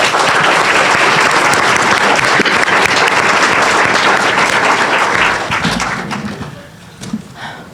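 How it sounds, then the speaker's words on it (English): A room full of people at a League of Women Voters city council candidate forum applauds loudly and steadily for about five seconds, then the clapping thins out and fades, with a few scattered claps and faint voices left at the end. "please, let's give a round of applause to the candidates"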